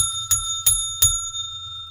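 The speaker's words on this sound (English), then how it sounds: "with the high quality bell" A high quality bell is struck three times in quick, evenly spaced rings that ring out bright and clear with a lingering tone.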